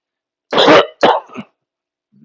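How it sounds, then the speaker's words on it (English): Two sharp, close coughs in quick succession, followed by silence and a faint low sound at the end. "I hate coughing in your guy's face like that."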